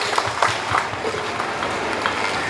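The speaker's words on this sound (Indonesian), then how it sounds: "Boleh tepuk tangan dong buat kita semua." Audience applause at a public event, dense steady clapping from a crowd, fairly loud and continuous, with no talk over it.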